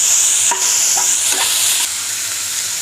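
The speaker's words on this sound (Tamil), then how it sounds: "நெக்ஸ்ட்டு பூண்டையும் வதக்கணும். பச்சை மிளகாயும் போட்டுக்கோங்க" Tomato, garlic and green chili being sautéed in a pan for a Tamil lunch dish, with a steady loud sizzle and a few stirring scrapes, no talking.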